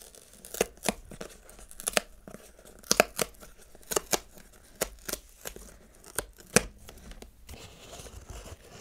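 Wrapper of a Magic: The Gathering Ixalan Collector Booster pack being torn open up close, a series of sharp rips and crinkles in irregular bursts across several seconds, with no talking.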